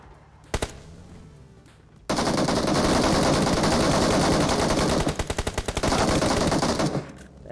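Rapid automatic gunfire in the battle royale game PUBG, a single loud shot early on, then sustained dense bursts that turn into distinct rhythmic rounds before stopping abruptly.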